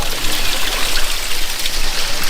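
Water runs without pause at a tapless village toilet in a settlement without electricity, a continuous close trickle and splash.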